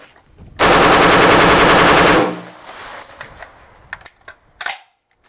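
A SCAR-16 rifle fires one long, very loud full-auto burst of rapid shots lasting about a second and a half. Echoes and a few sharp clicks and thumps follow.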